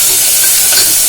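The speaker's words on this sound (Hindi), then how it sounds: "मैं इसको ना इस तरह से फ्राई कर रही हूँ गाजर को" Carrots being fried in a pan for carrot halwa, a loud, dense, steady sizzle and hiss close by, with nobody talking during the short burst.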